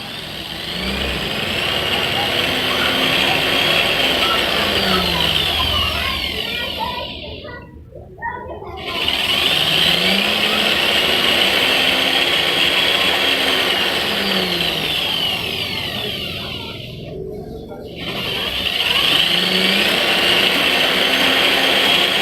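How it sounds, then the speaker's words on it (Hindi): A 13 kW, 280 RPM low-speed dynamo on a hydro power generator runs with a steady broadband whir and hum, briefly dropping out twice before resuming at a constant level. "ये एक लो RPM डेनमो है जो कि 13 किलो वाट की है और 280 RPM है"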